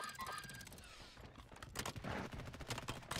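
Gunfire in Call of Duty Warzone, bursts of automatic shots with cracking reports scattered through the stretch, fairly faint and mixed with game effects.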